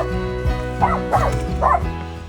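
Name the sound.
dog barking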